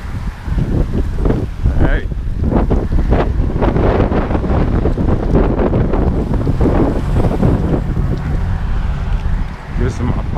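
Wind buffets a camera microphone during a late-evening outdoor run, producing a loud, continuous rumbling roar with gusty surges, while someone speaks over it throughout.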